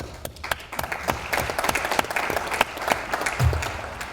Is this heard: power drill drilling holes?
no